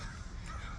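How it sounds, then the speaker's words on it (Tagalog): A brief, harsh cawing call from crows outdoors, heard faintly and at some distance. "Bumalik ang kaingayan ng mga uwak na ito."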